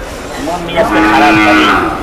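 A red cow moos once at the Gabtoli cattle market, a long low drawn-out call, loud and close by.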